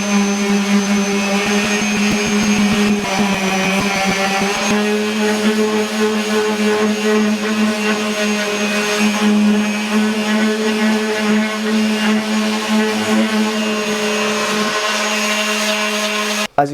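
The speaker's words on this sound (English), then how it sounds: "I then sanded each board up to 120 grit" A power sander works across oak boards, a steady, loud whirring drone with a strong tonal hum that holds for the whole stretch. There is some rough grinding scrape early on, and the motor cuts off abruptly at the end.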